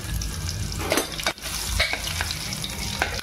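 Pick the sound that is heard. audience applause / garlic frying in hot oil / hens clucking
garlic frying in hot oil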